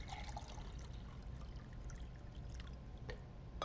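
Deionized water pours into a lab beaker during a conductivity demonstration, a soft close trickling and dribbling with a few brief splashy drips toward the end.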